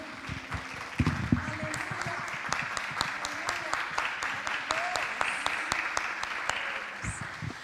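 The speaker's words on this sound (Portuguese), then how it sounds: "Uma salva de palmas para o nosso Senhor." Scattered applause from a church congregation after a call to clap for the Lord, with steady claps spread over several seconds and a voice speaking over them.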